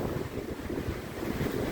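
Waves splash against a Brooklyn shoreline in rain and wind, a steady broadband wash with gusting rumble, close and continuous with no voices.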